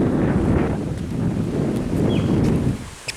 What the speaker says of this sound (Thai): ลมลมมันพัดสะพานมันแกว่งครับ